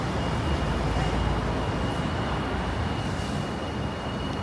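A constant low rumble and hum from inside a moving MRT metro train in Taipei, Taiwan, steady and unbroken, with no talking.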